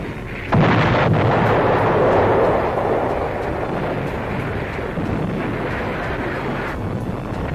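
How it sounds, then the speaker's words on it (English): Allied artillery pounds German gun emplacements in the hills around Monte Cassino in 1944, a sudden heavy blast opening into a sustained roaring rumble of shelling that gradually settles into a lower, continuous distant thunder. "Enemy gun emplacements on the hills around Cassino are hammered without let-up"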